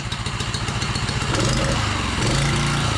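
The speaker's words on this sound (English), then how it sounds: "Yeah, this is a straight up lawnmower, man." A small petrol engine, like a lawnmower's, runs close and loud with a rough, rattling chug that steadies into a fuller drone.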